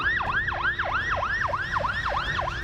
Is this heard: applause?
no